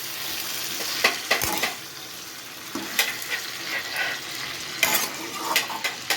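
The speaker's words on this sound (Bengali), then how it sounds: "মাংসটাকে ভালো করে নেড়ে চেড়ে নেব।" Chicken curry with fried potatoes sizzles in a pan while a spoon scrapes and stirs in irregular strokes, occasional clinks against the metal rising over a constant close frying hiss, no voices.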